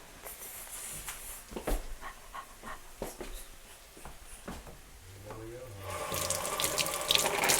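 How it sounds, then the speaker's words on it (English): Kitchen faucet running into a sink for a quick rinse, starting soft and swelling into a steady, close splashing stream toward the end, with faint panting and small background noises underneath. "Let me get us a quick rinse."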